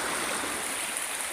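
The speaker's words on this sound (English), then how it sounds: "hopefully you can hear me over the water" A steady rushing stream pours continuously outdoors in the wild, loud and close, a dense even wash of flowing water with no other sounds.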